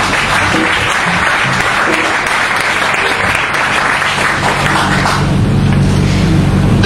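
Church congregation bursts into loud, sustained applause and cheering that fills the hall, a dense wash of clapping with voices mixed in.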